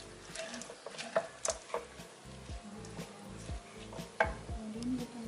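Soaked rice is stirred in a metal cooking pot with a utensil, giving soft grainy scraping and several clinks against the pot, quiet and close, with no talking.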